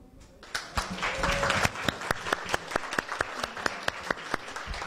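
A room of people claps at an NFT investment event speech, the applause swelling then thinning into distinct, evenly spaced claps toward the end.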